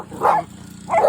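Two sharp dog barks spaced under a second apart, loud and close, standing alone.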